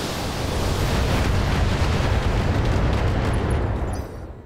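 Missiles exploding in BattleTech mech combat, a continuous loud roar of overlapping blasts and rumbling detonations that fades slightly at the end.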